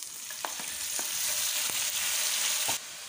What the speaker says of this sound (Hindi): अब ये देखें, गोश्त मैंने फ्राई कर रही हूँ